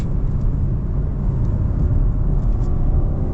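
A 2026 Genesis G80 Black accelerates at full power with a steady low engine and road roar, its automatic gearbox shifting up on its own; a continuous, fairly loud cabin drone with no talk.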